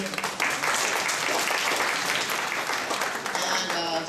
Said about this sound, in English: let's give yet another round of applause for that, ladies and gentlemen